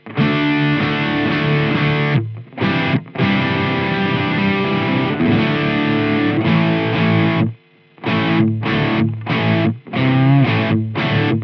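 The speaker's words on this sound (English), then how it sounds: "I'm playing the distortion on the distortion channel here" Electric guitar through the distortion channel of an Engl Gig Master 15 amp, loud and saturated, played in sustained chugging chords with several short stops and choppy stabs toward the end.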